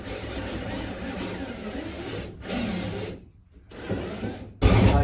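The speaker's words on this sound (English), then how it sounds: "drill the drill hole first up" A power drill drilling a hole during a van build whirs in several bursts, with brief pauses between runs and a louder start at the end.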